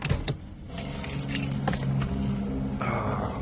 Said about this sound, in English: Put my keys on top.